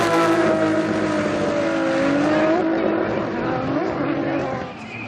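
A Formula Drift Japan car, Hibino's Good Ride Motorsports Evangelion Racing C34, drifts with a loud, sustained engine roar and tire squeal. The engine pitch rises and falls, and a commentator talks over it.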